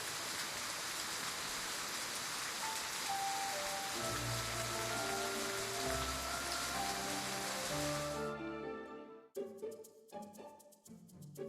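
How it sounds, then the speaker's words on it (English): Steady rain falls in a dense, continuous hiss, joined after a few seconds by soft sustained music that swells and then fades into a quieter patter of separate drops near the end. "I wanted the rain to last a little longer."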